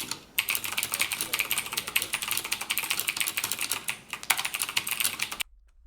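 A Silvercrest keyboard clatters under fast, steady typing, a dense run of close, crisp clicky keystrokes that stops abruptly near the end.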